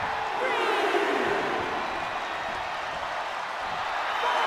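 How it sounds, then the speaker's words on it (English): A large arena crowd in the WWE 2K23 wrestling game roars and applauds as a steady, dense wash of noise, loud and continuous throughout. "This crowd is on pins and needles. The WWE Universe is ready to erupt."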